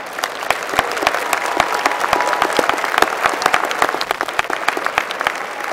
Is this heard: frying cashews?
no